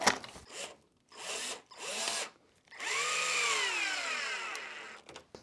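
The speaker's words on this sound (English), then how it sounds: "I'm going to work my way around adding screws, every 6 inches or so" A power drill drives screws into the wooden top of a module, with several short whirring bursts and then one longer run that slows as the screw seats, close and loud.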